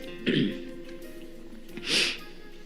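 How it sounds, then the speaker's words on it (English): Two short, throaty coughs about a second and a half apart, close and moderately loud, over a faint background hum. "I've been coughing since a few days."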